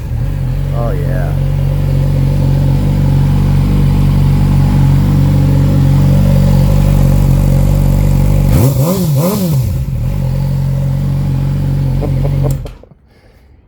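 A 2019 Yamaha YZF-R6 sport bike fitted with a TOCE exhaust idles loud and close with a steady low drone, then blips the throttle in a sharp rising-and-falling rev around the ninth second before settling back and cutting off near the end.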